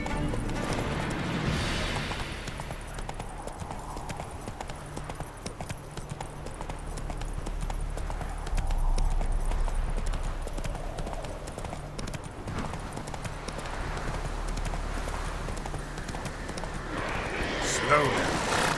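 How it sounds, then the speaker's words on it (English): Horse hooves clip-clopping in The Witcher 3, a steady rhythmic trot continuing throughout over game ambience and a low rumble, with a brief voice near the end. "Whoa there, Roach."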